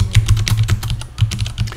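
Someone is typing an email on a computer keyboard, with a quick, steady run of close, clear keystroke clicks.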